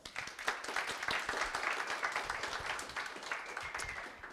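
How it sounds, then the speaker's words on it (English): An audience clapping for a presenter at a 2016 presentations event, fairly quiet and somewhat distant, with individual hand claps standing out within a continuous patter. "Can we get a big round of applause for Eric?"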